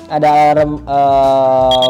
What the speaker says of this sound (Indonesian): Nah, ini sudah high alarmnya